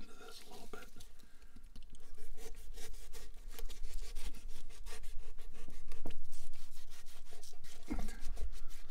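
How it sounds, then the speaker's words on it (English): A prop alien body being cut into during a mock autopsy, with close, steady rubbing, scraping and sawing textures and soft wet squelches running throughout. "Here, let's cut into this a little bit."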